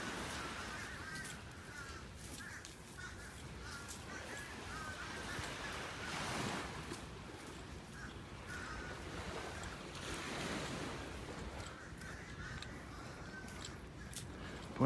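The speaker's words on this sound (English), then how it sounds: "Boy, those blackbirds are noisy." Noisy blackbirds call repeatedly on a North Naples, Florida beach during a morning walk, harsh caws scattered over a steady wash of surf and wind, fairly faint and distant.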